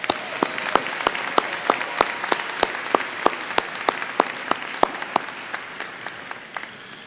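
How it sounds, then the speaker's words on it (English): An audience at a high school graduation ceremony claps for the graduating class, producing a steady, fairly close round of applause with many distinct sharp claps that continues throughout. "Let's give this class a quick round of applause."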